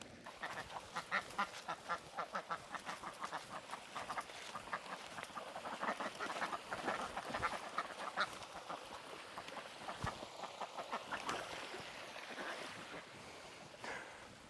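Ducks quack repeatedly in quick bursts at a moderate distance around decoys, with water lapping softly in the background.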